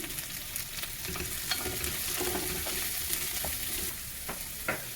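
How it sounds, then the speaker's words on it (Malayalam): Sliced onion and spring onion whites sautéing in hot oil for a home-style Chinese chicken and vegetable rice dish, a loud continuous sizzle with stirring scrapes, close up and without talk. "വലിയൊരു സവാള നീളത്തിലരിഞ്ഞത് ചേർക്കാം. എന്നിട്ട് പിന്നെ കുറച്ച് സ്പ്രിംഗ് അണിയൻ്റെ വൈറ്റും കൂടെ ചേർത്ത് നമുക്കിതൊന്ന് വഴറ്റി കൊടുക്കാം."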